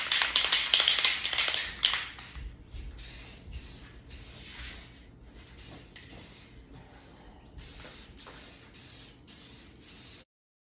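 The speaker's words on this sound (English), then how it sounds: "I'm going to now lay down the actual paint color." Several hissing bursts of aerosol spray paint coat a Ford F250 Super Duty headlight in its chosen colour, starting with one long, loud spray and then continuing in short, even, rhythmic passes up close.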